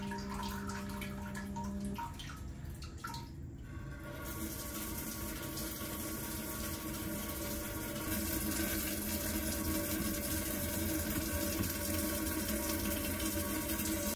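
A Brondell Swash 1400 bidet sprays water in its self-clean mode: a steady hiss of running water goes on throughout, shifting partway and growing a little brighter and louder in the last seconds, with no talking.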